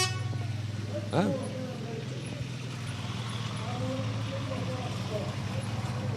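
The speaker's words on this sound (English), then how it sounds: "Now this large truck is brought to us by Alabama Power. Alabama Power, a Southern company. That's a real loud horn on that." A large truck's air horn blasts once, loud and rising, at a Veterans Day parade in Birmingham, Alabama, over steady engine rumble and crowd noise.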